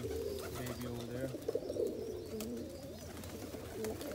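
Pigeon cooing from an opal ballhead youngster in a loft, low throaty coos repeating steadily throughout, moderately close, with faint background noise and a few soft clicks.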